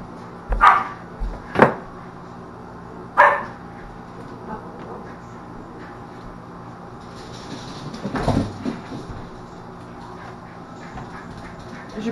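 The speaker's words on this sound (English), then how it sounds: "Probably can hear the dogs have some new toys that they're enjoying." A few sharp dog barks sound indoors as dogs play with new toys, three spaced close together, followed later by a scuffling thud and some faint rustling.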